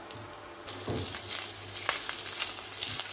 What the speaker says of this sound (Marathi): फोडणीमध्ये मिक्स करून घेते